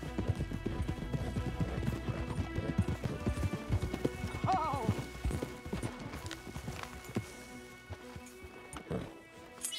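Several horses clip-clop along in a steady hooved rhythm, with a snort and whinny partway through and soft patter behind, heard fairly close at low level.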